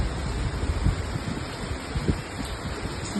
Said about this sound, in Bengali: ভালোই জোরে জোরে হাওয়াটা দিচ্ছে এক এক সময়